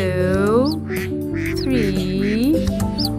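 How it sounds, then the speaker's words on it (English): Repeated duck quacks ring out several times, bright and fairly close, over a steady bed of cheerful music with a sung or spoken voice running alongside. "they are five little ducks"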